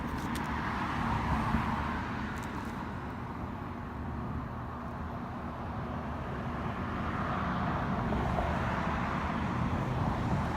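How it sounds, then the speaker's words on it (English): Traffic crossing the bridge at Glen Canyon Dam, a continuous low rumbling roar of passing cars mixed with wind, steady and moderately loud with no voices. "You can feel this bridge shaking as cars drive over it."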